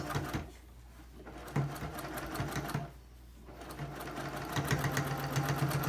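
A sewing machine stitches pleats into fabric for a face mask, its needle running in quick, steady mechanical bursts with two short pauses while the fabric is folded, close up and without talk.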